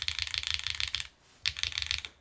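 Rapid clacky keystrokes on a mechanical keyboard, close and crisp, in a steady burst that pauses briefly and then resumes.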